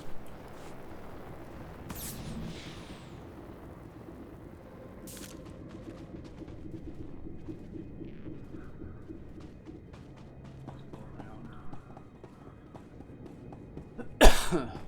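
A man in a quiet room gives a couple of sharp coughs, one early and one near the end, against a low background hum with faint clicks.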